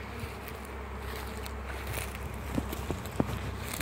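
Italian honey bees buzz around a hive being settled in May, a dense, steady hum of many insects close by with occasional light knocks and rustles, and no talking.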